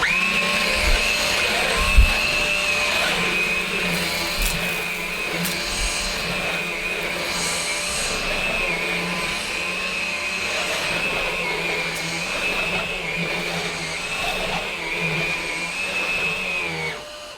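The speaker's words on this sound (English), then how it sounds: "I'll just quickly vacuum up this mess and we'll take a closer look at the Hoover Sensotronic." A Hoover Sensotronic S3134 upright vacuum cleaner runs steadily on carpet, a loud continuous motor whine with a sustained high tone, close and unbroken for the whole stretch, with no voices over it.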